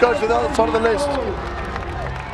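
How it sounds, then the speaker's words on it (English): Crowd cheers and shouts in a hall at a Battle of the Nations 5vs5 armored fight between Czech and Israeli teams, a steady roar sitting under a commentator's excited talk. "All the crowd are behind this Czech fighter now."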